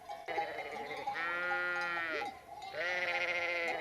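A flock of sheep bleating in Sierra Morena, two long wavering bleats close and loud, overlapping with fainter bleats behind.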